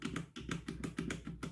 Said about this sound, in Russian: Послушайте, и даже пробел.